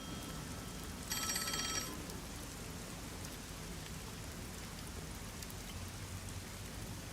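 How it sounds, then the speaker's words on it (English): A phone rings once in a video game, a short, bright electronic ring under a steady rain-like hiss. "Oh, the phone."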